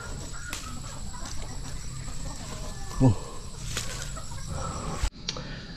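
Chicken clucking outdoors on a farm, a short burst of clucks standing out around the middle over steady ambient background noise, with no one talking.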